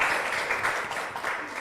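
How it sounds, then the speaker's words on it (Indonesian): Audience applause at the Dakara Gama Exhibition 2023, honouring Ibu Hajar Emilia: steady dense clapping from a crowd, fairly even in loudness throughout, with no talk over it. "Boleh tepuk tangannya sekali lagi untuk Ibu Hajar Emilia."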